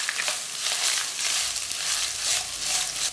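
Grated coconut, chopped onion and curry leaves stirred together in a hot pan, giving a steady dense sizzle with soft scraping and crunching throughout, close and fairly loud, no voices.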